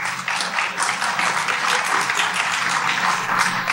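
An audience claps steadily at B.F. Skinner's 1990 APA speech, a dense, continuous wash of applause from a hall crowd lasting a few seconds without letup.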